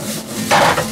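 A ladle or rice paddle scrapes and knocks against a pan while fried rice with egg is broken up and tossed, a brief close clatter and rasp that swells midway.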